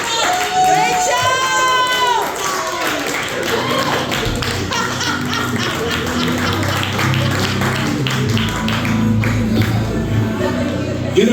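A crowd at a comedy-style performance held in an artisan pizza restaurant cheers, whoops and claps steadily and loudly, with scattered shouts and voices mixed in throughout.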